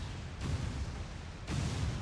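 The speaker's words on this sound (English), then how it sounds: "That's a beautiful explosion, though." Grenadier explosions in the video game XCOM 2, heard as two deep booming blasts about a second apart, each a sudden broad rumble that lingers, with no voices over them.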